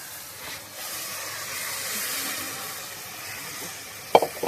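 Onions frying in a pan, a steady soft sizzle and hiss throughout, ending with a few sharp clinks of a utensil against the pan.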